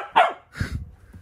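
A dog gives two quick barks in close succession, the first sharp and loud, the second softer and huskier, followed by a brief low grumble.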